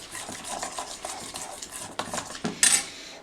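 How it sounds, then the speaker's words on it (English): A spoon stirs a horseradish mixture in a bowl for a caviar smörgåstårta, making soft repeated scraping strokes that end with a brief sharp clink of metal on the dish, with no talking. "I'm going to stir this up."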